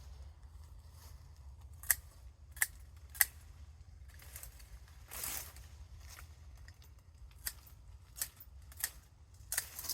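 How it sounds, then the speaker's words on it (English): Hand clippers snip blackberry canes in a Pacific Northwest garden, giving sharp, close clicks at irregular intervals of about a second, with rustling branches and outdoor quiet between the cuts. "They're really easy to cut."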